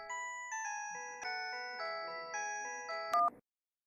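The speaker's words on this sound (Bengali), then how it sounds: "ও এই সময় আবার কার ফোন?" A phone ringtone plays a bright, repeating melodic jingle in clear steps, moderately loud and alone, cutting off after a few seconds.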